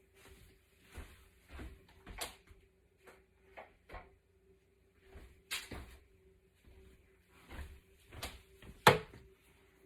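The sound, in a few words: opening the lid of a digital pressure canner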